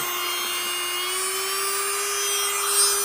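A nail e-file drill spins at high speed, around 35,000 RPM, giving a steady, sustained whine that holds its pitch throughout, close and alone with no talking.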